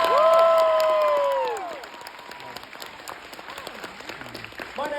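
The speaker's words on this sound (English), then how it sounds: "Let's give them a big round of applause." Loud audience applause with cheering fills a convention panel hall at the start, then fades after about two seconds into scattered crowd murmur and faint voices.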